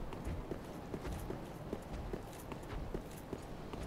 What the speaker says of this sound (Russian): Прям слышу вот эти шаги